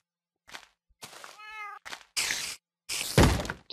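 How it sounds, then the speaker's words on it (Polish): A Minecraft cat meows a few times in the game, short and fairly close, alongside thumps and other in-game sounds, with no voices. "Słyszałem kota."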